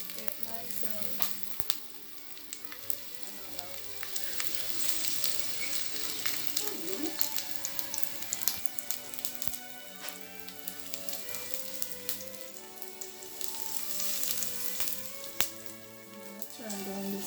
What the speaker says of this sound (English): I won't be adding the rosemary to the oil, just the garlic and the ginger. Put that in. Let that saute a bit.